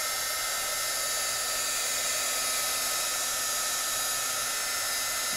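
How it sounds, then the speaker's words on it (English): A heat gun blows a loud, continuous hot-air roar over freshly poured acrylic paint, held steady from start to finish. "And actually, this is a heat gun. It's gonna help some of those cells come out."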